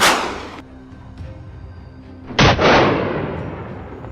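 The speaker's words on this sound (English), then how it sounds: "The gunfire echoed through the air, and the bullet struck its mark." Two sharp loud gunshots fired at a charging wild boar during a hunt, each a sudden blast with a decaying echo, about two seconds apart.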